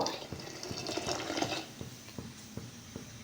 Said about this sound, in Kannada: ಸ್ವಲ್ಪ ನೀರು ಹಾಕೊಳ್ಳೋಣ ಫ್ರೆಂಡ್ಸ್.